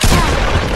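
Gunfire in a Roblox-style raiding game, a dense, loud burst of shots filling the whole brief moment with no pauses.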